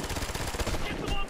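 Automatic gunfire in the co-op shooter Ghost Recon: Future Soldier: rapid rattling bursts of shots over a dense, noisy game soundscape, with a faint voice in the mix.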